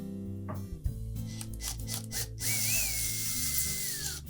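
Screws are driven into the top door hinge of a Whirlpool refrigerator, with clicks and handling knocks followed by a sustained power-tool whine that rises and falls, close and fairly loud.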